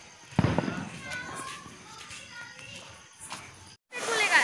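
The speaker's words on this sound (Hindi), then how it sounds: "ये देखो फटेगा, फटेगा बहुत तेज फटेगा बच्चों।" A Diwali firecracker bursts once with a loud, booming crack near the start, then gives way to children's voices and outdoor chatter, with a short gap of silence and renewed noise near the end.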